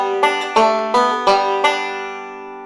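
A bluegrass banjo keeps an alternating roll going into the next measure: even, twangy plucked notes in a steady pulse, played alone and close, with the last notes left ringing out.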